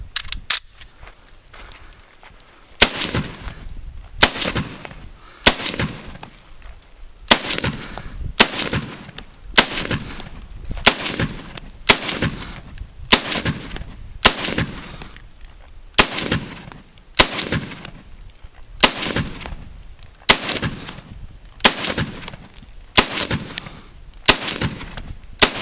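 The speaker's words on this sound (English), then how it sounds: "We can shoot the Springfield M1A socom 308." Springfield M1A SOCOM .308 rifle fired outdoors, sharp single shots spaced about every second and a half, each a loud crack followed by a short rolling echo, with no talking.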